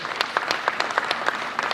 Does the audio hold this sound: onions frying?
no